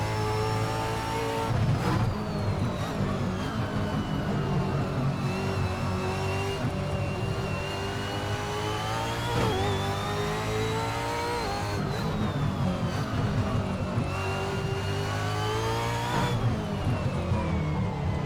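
A V8 Supercar engine in the racing game Assetto Corsa roars continuously around Winton circuit, its loud revving pitch climbing and dropping through gear changes and corners with no break.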